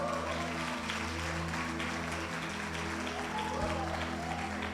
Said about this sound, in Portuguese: vamos aplaudir esse casal?